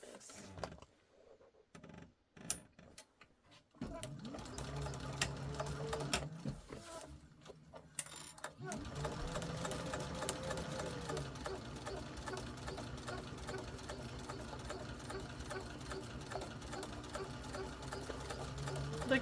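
A sewing machine stitches binding onto a sling, running in short rapid bursts with pauses at first, then settling into a steady, continuous close-up whir of fast needle strokes.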